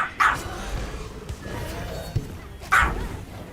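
A dog called Coffee gives two sharp barks, one near the start and one near the end, over a steady indoor background hum with no speech.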